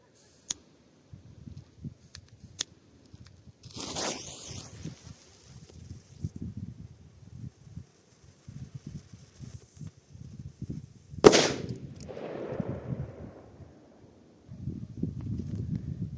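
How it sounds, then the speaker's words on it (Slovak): A Dum Bum firecracker set off outdoors in winter: a fizzing fuse burst, then one loud sharp blast with a short echoing decay, surrounded by wind rustle and low handling noise. "Ide petarda Dum Bum."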